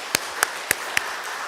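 Congregation clapping during a Sunday church service, heard as four sharp, evenly spaced claps, fairly close and alone.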